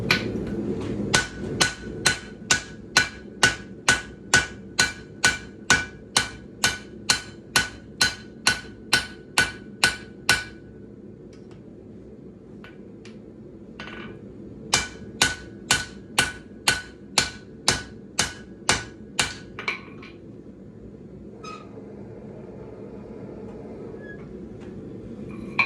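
Hammer blows fall on a Damascus steel billet of XC75 and 15N20 being drawn out after a doubtful forge weld, in two rapid, evenly spaced bursts of ringing strikes separated by a short pause and a few scattered taps.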